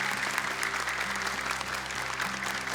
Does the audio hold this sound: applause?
yes